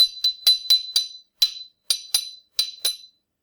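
Spoons tap a drinking glass in a quick irregular series of about ten bright ringing clinks, close and clear with short decays and no talking.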